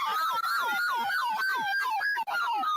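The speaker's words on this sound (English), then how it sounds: "Somebody turn that siren off, please, Poncherello" A loud, close siren wails in rapid rising-and-falling cycles, continuous and piercing.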